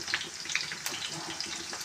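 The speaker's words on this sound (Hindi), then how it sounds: "अभी मैं तड़का बनाऊंगी" Spices temper in hot oil for a tadka, giving a short, steady sizzle with small crackling pops, close and alone with no talking.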